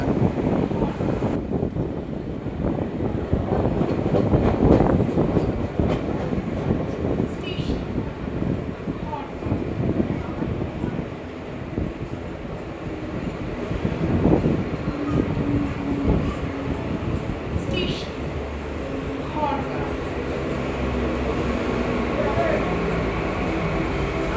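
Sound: Sealdah to Barrackpore local train ride

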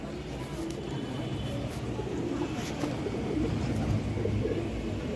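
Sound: pigeon cooing after landing

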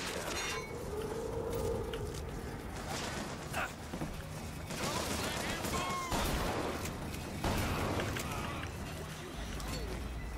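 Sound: shotgun gunfire in BioShock Infinite video game

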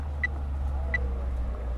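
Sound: car approaching in a video game

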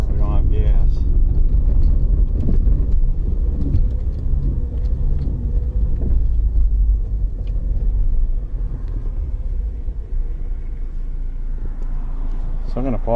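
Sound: 2005 Saturn Ion car driving around the block

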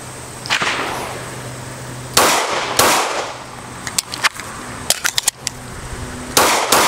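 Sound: handgun shots fired on a shooting range

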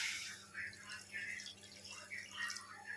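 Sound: pouring a glass of water into roasted semolina

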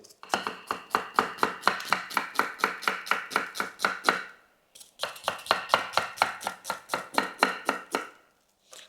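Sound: chopping onion with a knife

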